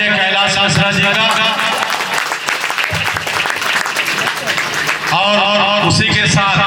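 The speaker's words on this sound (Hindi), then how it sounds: "जोरदार तालियों से स्वागत कीजिए कैलाश मिश्रा जी का" Loud, dense applause from a crowd at a Ghusuri Aman Committee Independence Day event welcoming Kailash Mishra, steady clapping throughout with music and a voice over a PA underneath.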